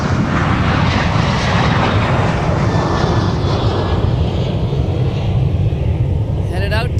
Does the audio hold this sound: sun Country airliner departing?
yes